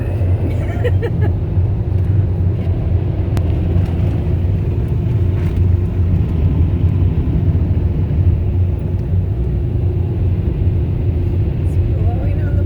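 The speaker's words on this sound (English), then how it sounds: "It's blowing on the windshield." Steady, loud roaring rush of air from an automatic car wash dryer blowing across a car's windshield, heard from inside the vehicle with a constant low rumble throughout.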